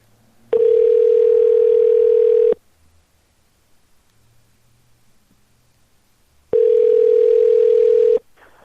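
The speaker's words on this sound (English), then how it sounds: "let's get Miss Pam on the phone and see if she's home yet" A telephone line rings out during a live call on a talk broadcast, two loud, steady tones about two seconds long separated by a quiet gap of several seconds.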